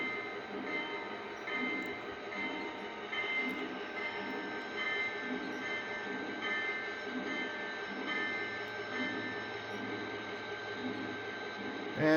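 An early-2000s model train bell rings steadily in a quick, even rhythm over a continuous mechanical hum, going on for several seconds without a break.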